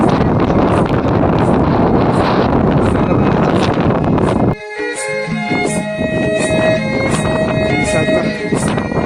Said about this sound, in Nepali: कस्तो हावा चलेको हो, हिँड्नु सकिएन। हावाले लडाउला जस्तो गर्छ।